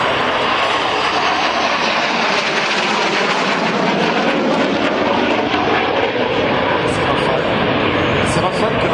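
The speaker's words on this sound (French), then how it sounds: "C'est Rafale que l'on pilote" A loud, continuous roar of a Rafale jet fighter engine flying overhead fills the whole stretch, dense and unbroken, with voices faintly mixed in beneath it.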